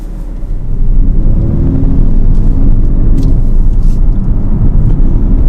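BMW M3 with an automatic gearbox drives along as a steady, loud low rumble of engine and road noise, heard from inside with no talk.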